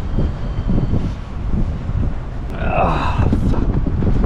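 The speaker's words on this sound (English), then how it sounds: "It's really windy this morning, which is never ever a good sign." Strong wind buffets an outdoor microphone on a stormy-looking morning where motorbikes are parked, a steady roaring rumble throughout, with a brief spoken exclamation and some higher noise near the end.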